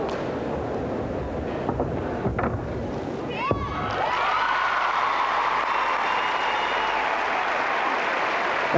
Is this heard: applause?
yes